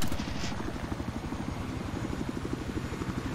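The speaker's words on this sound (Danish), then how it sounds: "Der er helikopter over mig." A helicopter overhead in the video game Battlefield 4 gives off a rapid rhythmic rotor chop over a low engine drone. The sound is continuous and moderately loud, with regular pulsing beats throughout.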